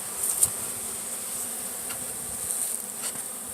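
Bees buzz around an open hive during an outdoor inspection, a steady high insect drone close by, with a few louder swells as individual bees pass near.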